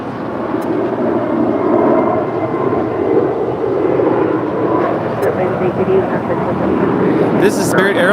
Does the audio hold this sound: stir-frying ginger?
no